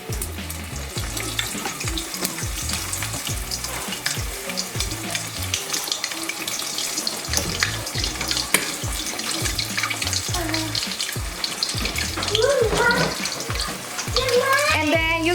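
Rolled potato and cheese taquitos fry in a pot of oil, a dense, continuous bubbling sizzle with rhythmic clatter and pops, close and loud, with no speech over it.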